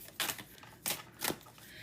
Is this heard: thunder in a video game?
no